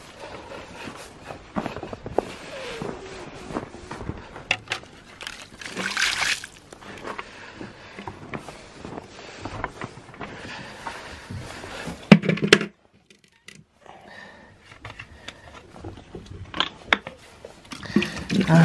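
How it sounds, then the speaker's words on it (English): Water splashing and trickling as a container is dumped out and refilled at a farm animal's feeding spot, with intermittent close sounds and a voice talking over parts of it. "Dump that out and give him some fresh water."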